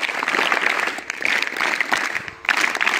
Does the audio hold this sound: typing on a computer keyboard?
no